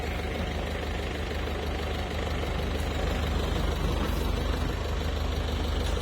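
A heavy engine drones loudly and steadily throughout, a thick low rumble like a tractor working hard with no pauses.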